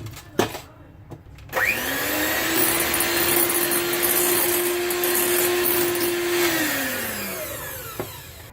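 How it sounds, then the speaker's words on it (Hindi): An electric beater whirs steadily through cake batter for a chocolate cake, spinning up with a rising whine, holding a loud even drone for several seconds, then winding down, with a few knocks against the bowl before and after. "अब इस स्पैचुला की मदद से मैं इसको एक दफा मिक्स करके दोबारा से इसको बीट करूंगी बहुत अच्छे से"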